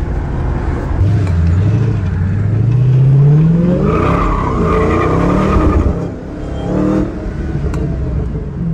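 Dodge Challenger Hellcat stepping out sideways, a rising engine roar with tires skidding and squealing on the road, loud and close for several seconds before the revs fall away.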